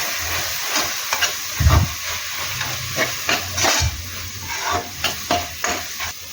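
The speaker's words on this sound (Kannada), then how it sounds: "2 ರಿಂದ 3 ನಿಮಿಷ ಹುರಿದ ನಂತರ ಅದಕ್ಕೆ ಅಚ್ಚ ಖಾರದ ಪುಡಿ, ರಾಜ್ಮಾ ಮಸಾಲ, ಗರಂ ಮಸಾಲ, ಅರಿಶಿಣ ಪುಡಿ ಮತ್ತು ಧನಿಯಾ ಪುಡಿಯನ್ನು ಸೇರಿಸಿ ಚೆನ್ನಾಗಿ ಮಿಕ್ಸ್ ಮಾಡಬೇಕು." Spices including chilli powder, rajma masala, garam masala, turmeric and coriander powder frying in a pan for rajma curry, a steady close sizzle with repeated stirring scrapes and clinks, no talking.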